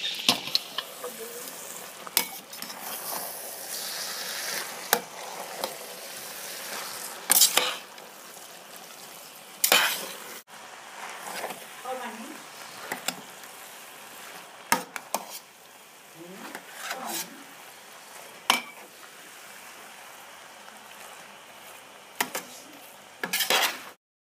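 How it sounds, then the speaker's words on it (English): Cooked rice being stirred into mutton biryani in a pot, with scattered scraping and clinking of a spoon against metal over a low, steady background, occasional sharper knocks. "Now we add our cooked rice and stir well."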